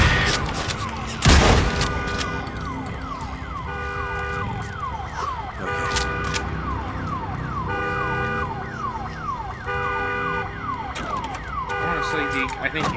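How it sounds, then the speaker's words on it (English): An alarm siren wails in the video game Days Gone, rising and falling in repeated sweeps that run loud and steady throughout, mixed with bursts of gunfire and game noise. "Damn alarm."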